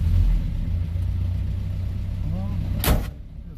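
A Fiat 600 engine idles with a steady low rumble, a brief clunk near the end before the level drops, with faint voices in the background.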